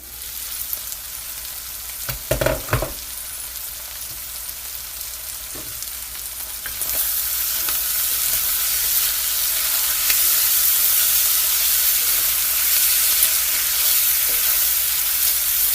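Corn frying in a skillet for corn chowder, a steady sizzle with a few clinks of a utensil early, then the frying swells into a louder, brighter hiss that holds to the end, with no talking.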